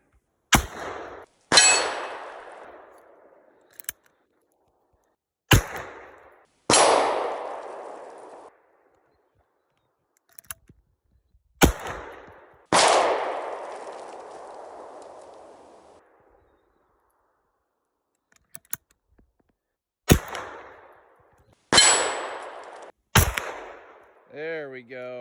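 A .357 Magnum pistol fires hot loads at a steel target, about eight sharp, loud cracks spaced irregularly apart, each followed by a ringing clang and a decaying echo tail, with a voice briefly at the end.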